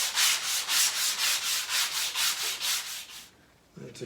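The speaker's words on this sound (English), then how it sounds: "I'm just going to do a little sanding on here to give a good surface for the glue" Rhythmic back-and-forth strokes of sandpaper rub across an edge-banded wood cabinet part, steady close scratchy swishes about three per second, stopping abruptly near the end before a faint knock.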